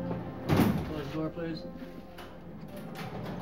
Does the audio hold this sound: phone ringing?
no